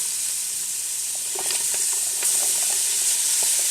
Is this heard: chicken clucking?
no